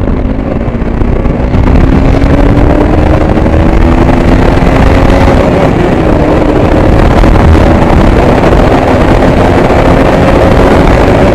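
A 2022 KTM Duke 200 or RC 200 BS6 motorcycle is ridden at speed, its engine tone rising steadily beneath loud, constant wind roar on the microphone.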